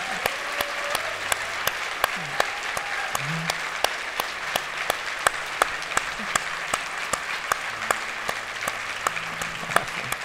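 A church congregation applauds and cheers steadily for the full stretch, dense clapping with sharp individual claps on top and a few voices calling out beneath it.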